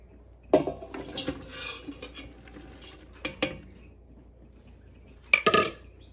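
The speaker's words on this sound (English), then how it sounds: "In goes our diced celery." Diced celery tumbles into a soup pot for a cream soup base, a few soft scattered clatters and a louder closing rattle of vegetable pieces hitting metal, with quiet gaps between.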